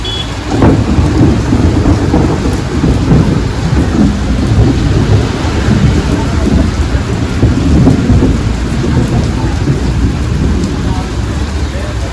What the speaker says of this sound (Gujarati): એ ગાજો વધારે ગાજ છે